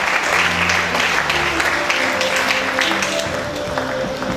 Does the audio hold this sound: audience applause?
yes